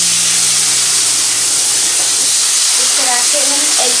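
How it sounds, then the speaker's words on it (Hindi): A loud, close burst of hissing steam and sizzling as milk is poured little by little into wheat flour roasting in ghee, for halwa, the spray sound constant throughout with faint bubbling toward the end. "तो अब हम इसमें थोड़ा थोड़ा करके दूध ऐड करेंगे"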